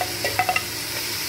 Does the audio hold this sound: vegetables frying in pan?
yes